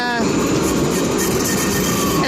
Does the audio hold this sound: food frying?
no